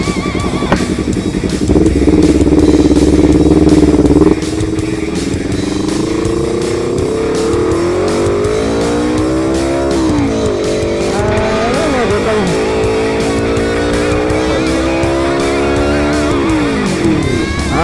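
A 2018 Honda CBR250RR sport motorcycle engine revs and accelerates in comfort mode with rising, harmonic-rich pitch sweeps, loud and close, with brief drops between gear changes.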